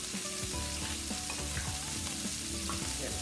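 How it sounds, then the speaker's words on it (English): Beef sizzles in a hot stir-fry pan with garlic for beef and broccoli, a steady close frying hiss broken by stirring clatters and scrapes of the spatula throughout. "Then we're going to add our beef."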